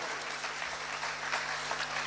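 Audience applause at a Jain religious discourse, a dense, steady wash of clapping from many hands that carries on without a break and fairly loud.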